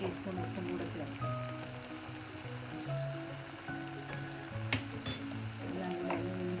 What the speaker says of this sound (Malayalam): എല്ലാം കൂടെ വീണ്ടും വഴറ്റി വെണ്ടയ്ക്കൊക്കെ വഴങ്ങുന്ന സമയം കൊണ്ട്